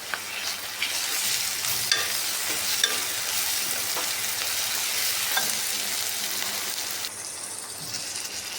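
Onions and fish curry masala for an Andhra-style fish curry fry in a pan with a dense, steady sizzle, with spoon stirring and scraping repeated throughout.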